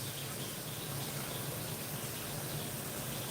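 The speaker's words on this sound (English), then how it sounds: "Get some water in this." Water poured into a pot of Jamaican brown stew chicken, a steady, soft gushing stream that runs unbroken from start to finish with no talking.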